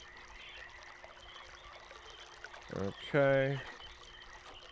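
Water flowing through a tube in the puzzle game Myst, a faint, steady rushing trickle throughout, with a brief spoken word from a nearby voice over it.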